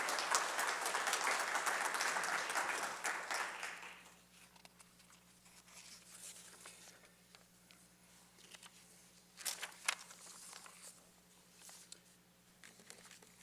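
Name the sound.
audience applause for mayoral candidates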